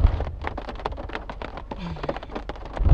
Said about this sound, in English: it started raining, which we knew rain was in the area, but it just literally hit right when we pulled in